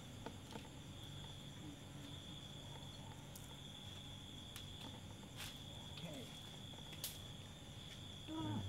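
Insects chirping at night, a steady faint high trill continuing throughout, with a few soft knocks and rustles nearby.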